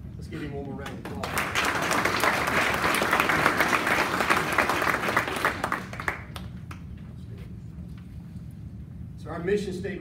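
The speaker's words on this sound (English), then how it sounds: "Let's give him one more round of applause." An audience at a sheriff's office awards ceremony gives a full round of applause lasting several seconds, then it fades, and a speaker's voice resumes at the end.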